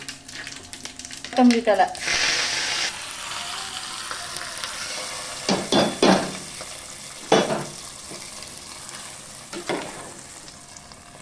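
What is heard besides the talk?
pepper, cumin and cashews frying in ghee and oil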